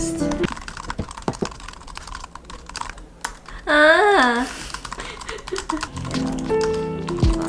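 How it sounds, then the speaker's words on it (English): Fast computer keyboard typing during a typing test race, with bursts of key clicks under brief excited voices and a short melodic vocal interjection midway. "Can we try the typing test?"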